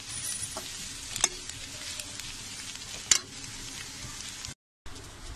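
Kheema, cabbage and peas bhaji being stirred in a hot pan, a steady sizzle with a few sharper scrapes of the spoon against the metal, close and fairly loud, with no voices.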